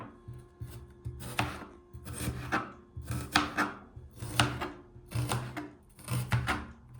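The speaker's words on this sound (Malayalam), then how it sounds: "ഉള്ളിയൊക്കെ ഇങ്ങനെ ചെറിയ പീസുകളായിട്ട് ഇങ്ങനെ അരിഞ്ഞുകൊണ്ടിരിക്കുവാണ്" Onions are chopped into small pieces with a knife on a board, a steady run of close, crisp blade knocks in repeated bursts with no talking.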